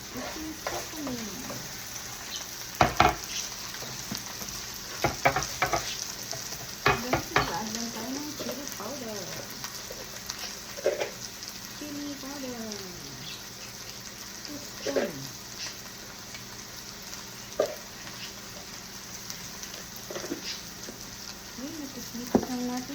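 Bihon rice noodles sizzle steadily in a pan as they are tossed and stirred, with repeated utensil scrapes and clinks scattered over the frying and faint voice-like sounds at times.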